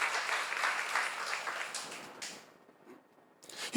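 Brief applause from a church seminar congregation, a lively burst of clapping at moderate volume that fades out over a couple of seconds into near silence.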